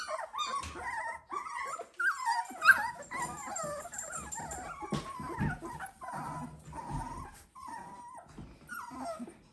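Twenty-day-old Dalmatian puppies whimper and yip in a continuous, high-pitched chorus, with small growls mixed in, close by and fairly loud throughout.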